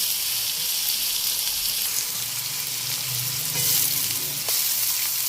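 Onion and black peppercorns frying in a pan, giving a loud, even hiss of sizzling oil with faint stirring movement and no voices over it.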